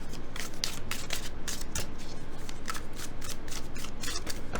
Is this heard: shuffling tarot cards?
yes